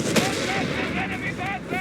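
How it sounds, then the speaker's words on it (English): Artillery fire in Company of Heroes 3 during a North Africa battle at Gazala: a sharp blast at the start, then a dense, continuous rumble of gunfire and explosions under game sound effects. "Artillery!"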